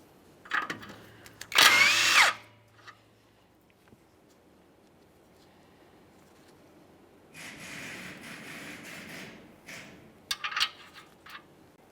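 Power tool spinning off the 21 mm outer tie rod end mounting nut on a Ford F-150, a short loud whirring burst near the start, followed later by quieter rattling, mechanical clicks and a few sharp knocks.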